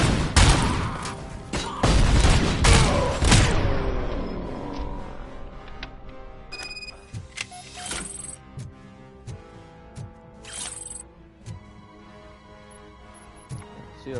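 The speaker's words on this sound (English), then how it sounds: "Keep throwing grenades over here." Grenades explode in RoboCop: Rogue City, loud booming blasts clustered at the start with gunfire mixed in, followed by scattered debris clatter and fading, quieter hits.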